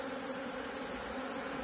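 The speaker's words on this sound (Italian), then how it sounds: "Questa nello specifico non è mai stata una famiglia tranquillissima, nel senso che mi ronza sempre un po' addosso." Honeybee colony buzzing steadily around a beekeeper during an artificial swarm split, a continuous dense drone with no pauses and no talk.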